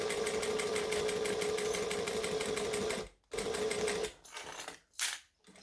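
A sewing machine stitches nylon zipper tape in a steady, fast mechanical chatter up close. It pauses briefly, then runs in a few shorter bursts with gaps between them, and no one speaks.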